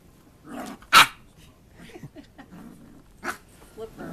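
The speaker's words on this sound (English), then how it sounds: "Oh, you're barking at me now?" A young puppy gives a sharp bark and a few low growls and whimpers at close range, while people talk and laugh over it.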